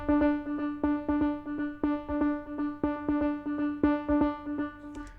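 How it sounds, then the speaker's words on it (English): A phone notification ringtone, a bright plucked melodic pattern of repeated tonal notes in steady rhythm, sweeping back and forth between left and right, played alone for several seconds with no voices. "So I decided to add a little notification sound, or basically a ringtone"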